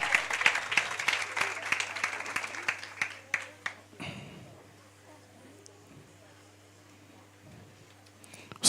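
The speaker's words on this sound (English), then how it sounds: "Give her a round of applause." Applause for a pitcher at a business workshop, a burst of clapping from a modest audience that thins to a few scattered claps and stops around halfway, leaving quiet room tone with faint murmurs.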